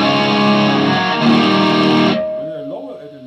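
Electric guitar played through heavy distortion at full volume, a loud sustained chord that cuts off abruptly at about two seconds, leaving a fading ring.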